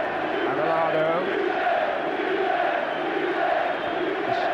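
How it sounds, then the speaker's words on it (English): A football stadium crowd roars throughout during a 1994 European match between Manchester United and Barcelona, a dense, loud, sustained wash of cheering and chanting that swells and dips. "Just listen to this crowd."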